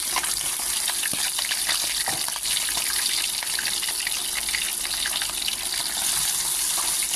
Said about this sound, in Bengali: কড়াইতে চলে দিতে পুঁটি মাছ দিয়ে দিলাম